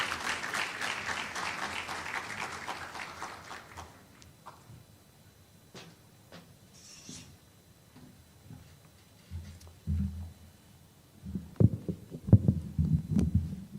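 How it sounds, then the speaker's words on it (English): Conference audience applauding as an archbishop is invited up, a burst of clapping that fades over several seconds, followed by quieter room sounds and thumps. "Put your hands together for him. Clap the man of God."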